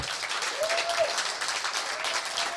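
Steady applause from a live esports crowd at a Hearthstone tournament match, continuous and fairly loud throughout with no break.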